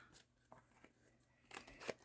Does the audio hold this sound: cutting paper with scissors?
yes